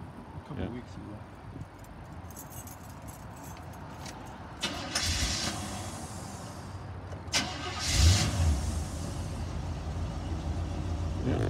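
A motorhome's 350 V8 engine starts from cold after a couple of brief cranks, catching on the second try and settling into a steady mid-pitched idle, with people talking nearby.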